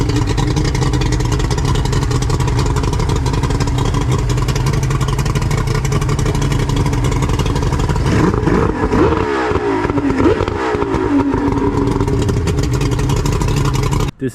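A 1992 outboard boat motor runs loud and close in a steady strong drone, then its pitch bends and wavers briefly before settling back, cutting off abruptly at the end.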